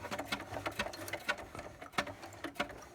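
A Singer 4411 sewing machine stitches a bar tack in a fast, even run of close mechanical needle thumps that continues steadily without pause.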